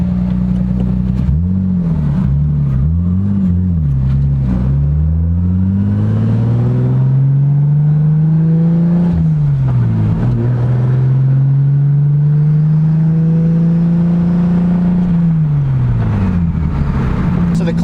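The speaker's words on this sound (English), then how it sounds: "I'm gonna try my best to let you hear me over all this road noise." Road noise and a steady engine drone fill the cabin of a 2JZGTE-swapped IS300 with a T56 Magnum gearbox and twin-disc clutch, rising and falling through gear changes, loud and close, while someone talks over it.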